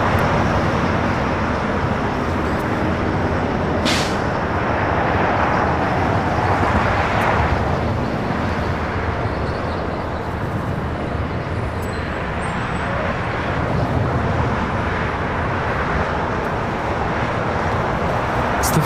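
A Philippine Airlines Boeing 777-300ER takes off from Los Angeles International toward Manila, its heavy jet roar steady and broad for the whole stretch, with a couple of sharp clicks cutting briefly through the rumble.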